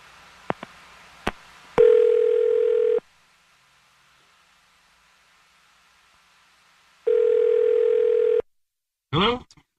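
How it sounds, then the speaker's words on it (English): Telephone call tones sound over a line: a few clicks, then two long steady ringback tones separated by a silent gap, followed by a brief voice at the end. "I'm going to dial his number right now."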